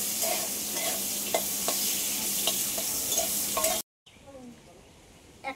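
Bitter gourd and chopped raw mango fry and get stirred in a pan, a steady soft sizzle with scattered spatula scrapes and knocks that cuts off abruptly near the end, followed by quieter kitchen sounds.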